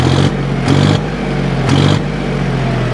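A John Deere 5050 tractor's diesel engine idles and twice revs up sharply under throttle, each burst quick and loud before dropping back to a steady idle, heard close and alone.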